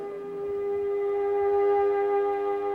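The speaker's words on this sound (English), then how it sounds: "sirens brought stillness to every Israeli for 2 minutes today to mark the Holocaust" Civil defense sirens sound a long, sustained wail across Israel for Holocaust remembrance, a steady tonal blare that swells slightly and carries from a distance with no talking.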